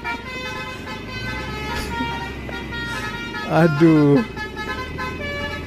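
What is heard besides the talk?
telolet bus horn playing the Basuri tune in a traffic jam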